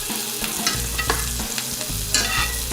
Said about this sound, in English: I'm going to start basting this steak.